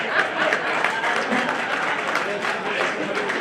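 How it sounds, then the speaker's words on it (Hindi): An audience at a Hindi poetry gathering applauds: a dense, continuous wash of clapping with a voice heard over it. "तालियां थोड़ी सी कमजोर थी"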